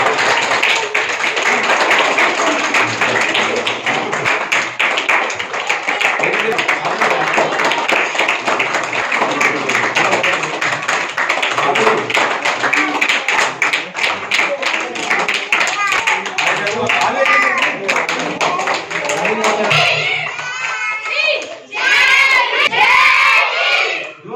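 A village crowd at a Babasaheb Ambedkar birthday celebration in Lohara claps and cheers loudly and continuously, with children shouting and voices mixed in, ending in a burst of louder cheering.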